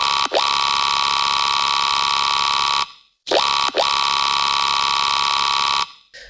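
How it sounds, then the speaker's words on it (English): A bright, sustained electronic tone, the high layer of a dubstep sustain bass, with a sharp downward blip at the start, repeated twice with a short gap of silence between, loud and alone. "The first one is the high layer, which sounds like this"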